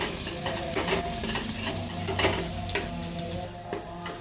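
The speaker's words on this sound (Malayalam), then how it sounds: "കടുക് വറുത്ത മൂത്തിട്ടുണ്ട്" Mustard seeds fry in hot oil with shallots and curry leaves for a simple chutney curry, a loud close sizzle with crackling pops and the scrape of stirring.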